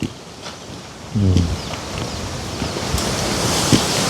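Cold wind blowing outdoors in a rural setting in late December, a steady broadband rush that gusts louder midway, with faint rustling and brief voice-like bits under it.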